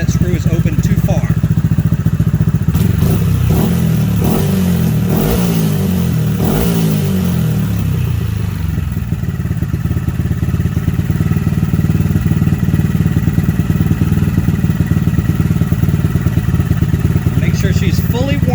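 A Honda Grom motorcycle engine idles with a rapid, steady putter while its throttle is blipped in a few quick revs partway through. Someone talks over the engine for much of the time.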